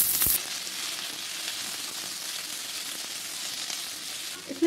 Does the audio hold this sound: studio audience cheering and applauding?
no